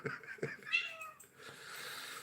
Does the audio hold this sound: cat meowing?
yes